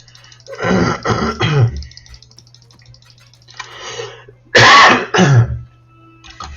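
Two bursts of coughing, close and fairly loud, the first a run of rough hacks, the second a short pair a few seconds later, with a faint murmur between.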